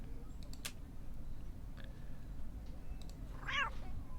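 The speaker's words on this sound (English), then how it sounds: "So that makes a cat sound" A short synthesized cat meow from a point-and-click adventure game at a market scene, faint and brief near the end over a low steady background hum, with a few small clicks earlier.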